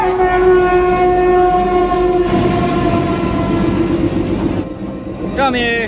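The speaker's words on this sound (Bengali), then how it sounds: "আমাদের এই টয় ট্রেন কালকা রেলওয়ে স্টেশন থেকে কিন্তু ছাড়ছে" A toy train departing Kalka railway station sounds a loud, sustained horn for several seconds over rumbling rail noise, then the horn cuts off and a voice is briefly heard.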